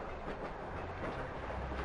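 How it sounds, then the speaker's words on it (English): A freight train rolls past in the video game The Longest Journey as a steady, dense rumble with faint rhythmic clatter, continuous and moderately distant, with no voices. "Those freight trains pass by at least once every 5 minutes all day long."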